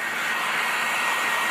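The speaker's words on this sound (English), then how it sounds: "with our blow dryer" A blow dryer drying paint on a handmade fishing lure, a loud steady airy whoosh with constant motor hum, close and uninterrupted.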